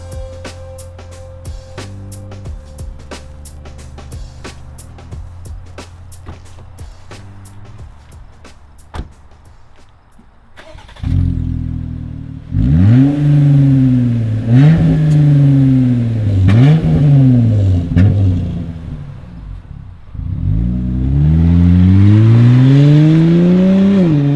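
A 2020+ Jeep Gladiator JT fitted with an MBRP single rear-exit cat-back off-road exhaust starts up after a click and bursts of rhythmic tapping, then revs repeatedly in loud, rising and falling swells with an aggressive, throaty note, close by.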